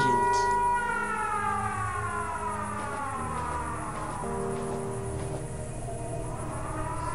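A civil defense siren in the game Fran Bow wails loud and continuous, its rising and falling tones layered over a low drone, with no speech.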